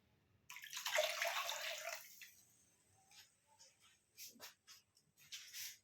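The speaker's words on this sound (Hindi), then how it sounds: "एक आधा गिलास पानी और डाल देते हैं" Half a glass of water poured into thick kadhi batter in a pot, a splashing pour rising then tapering over a couple of seconds, followed by a few small clinks and drips.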